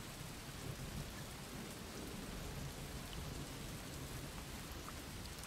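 Steady rain falls in the Western stealth game Desperados III, a dense, even hiss of drops with low rumbling underneath. It is fairly quiet and continuous, with no voices.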